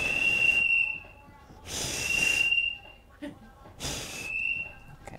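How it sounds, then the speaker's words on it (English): A whistle blown in the Blood and Truth video game, heard as three sustained, fairly loud shrill tones separated by short pauses, with faint background noise between blasts. "Let's try the whistle."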